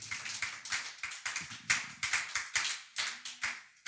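A church congregation claps in steady, rhythmic unison to acclaim the Lord, a dozen or so sharp, loud claps in a quick, even beat.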